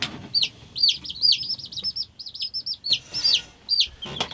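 Baby chicks being raised without a heat lamp chirp in repeated high peeping calls, several close together with short gaps, fairly loud against a faint low background.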